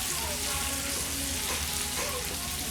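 A ribeye steak sears loudly in a very hot pan, a steady dense sizzle and crackle running throughout with no talking.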